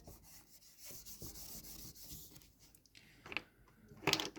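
Writing is wiped off a classroom board with faint, uneven scrubbing strokes close by, ending in a few brief louder scrapes and knocks.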